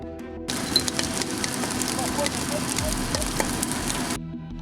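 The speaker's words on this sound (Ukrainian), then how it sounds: "І знову запалало." A fire flares up inside a firefighter training fire corridor during rescuer drills, giving a steady broadband roar with crackles for about four seconds before cutting off.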